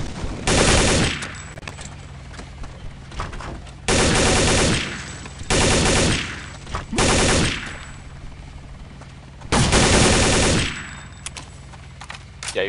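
Loud bursts of automatic gunfire from Counter-Strike: Condition Zero Deleted Scenes, firing in four or five long sustained volleys separated by brief quieter gaps.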